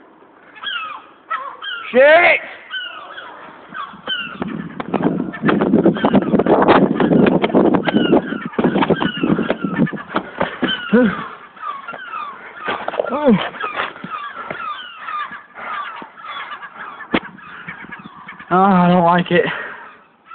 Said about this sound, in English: 2 seagulls fighting in the sky.